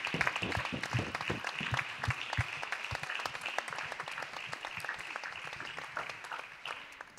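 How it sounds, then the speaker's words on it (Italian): A theatre audience at the Teatro del Casinò in Sanremo bursts into loud, crisp clapping that gradually thins and fades over several seconds, with no talk over it. "un applauso all'associazione"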